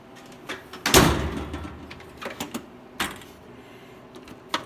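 A metal drawer of a Harbor Freight 72-inch tool box slides open with a loud rolling rattle, followed by scattered clicks and clinks of tools shifting inside, close by with no talking.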